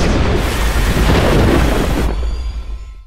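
A loud, close roll of thunder over steady rain fills the whole stretch, the heavy rumble swelling and then easing as the downpour carries on underneath, with no voices present.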